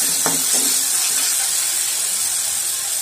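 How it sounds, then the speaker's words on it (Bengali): Masala with a splash of water fries in a pan over medium heat as a continuous loud sizzle and hiss, close by, with a few brief scrapes of stirring near the start. "জল দিয়ে এগুলোকে খুব ভালোভাবে 2 মিনিট ধরে আমি কষিয়ে নেব মিডিয়াম আঁচে"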